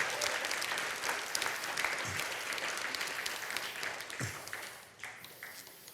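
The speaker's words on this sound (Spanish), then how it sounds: "Dale un fuerte aplauso al Señor" A church congregation claps loudly and steadily for about six seconds, fading slightly toward the end, with brief low voices breaking through now and then.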